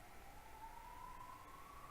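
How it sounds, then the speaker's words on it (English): Ambulance sirens wail faintly outside, a rising tone heard far off beneath steady background noise. "There's more ambulances coming."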